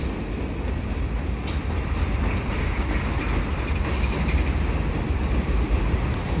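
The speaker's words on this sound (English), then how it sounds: "And that looks like the end of the train." A freight train of old boxcars rolls past nearby, a steady, loud rumble of wheels and rail noise with occasional faint squeals and no speech.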